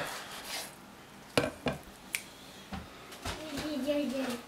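A knife cuts a slice of prime rib on a plate, making a handful of sharp, close clicks and scrapes spaced irregularly over a low room hum.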